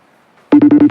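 After half a second of near silence, a telephone ringback tone starts loudly on an outgoing call, pulsing in five short, even beeps.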